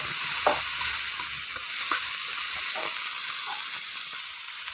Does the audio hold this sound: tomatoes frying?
yes